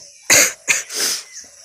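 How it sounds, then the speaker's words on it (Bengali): Three harsh, close coughs from a person who is unwell come in quick succession, the last one longer and raspier, with no speech. "তো এখন আমার কাশি হয়ে গেছে"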